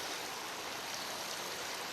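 Water poured onto a newly planted Aravaipa avocado tree in Arizona, a soft steady hiss of flowing water, faint and continuous with no voices.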